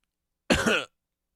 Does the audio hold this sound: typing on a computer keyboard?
no